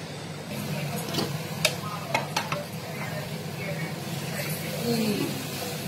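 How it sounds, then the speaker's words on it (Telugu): Beetroot frying in a pan for chutney in a home kitchen, a steady soft sizzle with a few sharp clinks of a spoon stirring against the pan, close and moderately quiet. "ఈ బీట్రూట్ ఇలా వేగిన తర్వాత దీన్ని ఒక ప్లేట్ లో తీసుకోవాలి"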